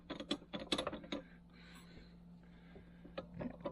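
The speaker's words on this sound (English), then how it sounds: "Let's make a bunch of noise hitting the vise handle on the tripod." Metal vise handle struck repeatedly on a tripod to open the vise in a machine shop, with several sharp clanks and rattles in quick bursts at the start and again at the end, and a quieter mechanical hum in between.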